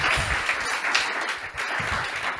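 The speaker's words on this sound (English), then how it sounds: "Yes, let's clap, even if he's not here." Audience clapping for the winner of a "Data is Art" competition, a moderate patter of hands with some uneven bursts, fairly close and without speech over it.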